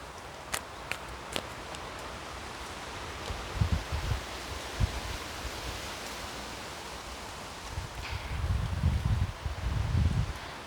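Soft, steady outdoor rustle of wind through leaves, swelling in gusts with a few faint clicks and no talking.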